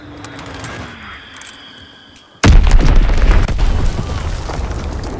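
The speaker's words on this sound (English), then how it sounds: "Enemy bomb incoming! Get to cover!" An enemy bomb exploding in the World War II shooter Call of Duty: WWII, a sudden massive close blast that erupts after a quieter stretch of game noise and rolls on as a loud rumbling roar.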